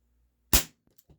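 A Crosman 1377 air pistol fires a hollow point pellet: a single sharp, close pop followed by a few faint clicks and small impact sounds.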